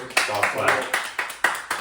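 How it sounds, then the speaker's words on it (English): One person gives a slow golf clap: a handful of soft, widely spaced claps over and between spoken words. "Golf clap."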